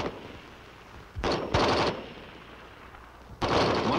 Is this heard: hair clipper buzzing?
no